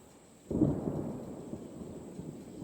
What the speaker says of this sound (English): There's some thunder right here and just north of us.